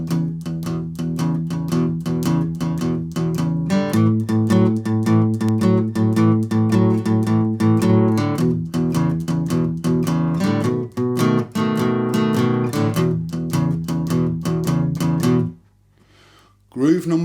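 An electric guitar plays a steady, choppy blues shuffle groove, loud and close, with repeated rhythmic strums and a driving low pulse, breaking into a brief pause before a single low note near the end.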